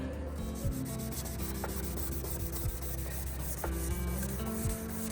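Steady rubbing of sandpaper over a car headlight lens, continuous and close, with faint rhythmic strokes and no voices.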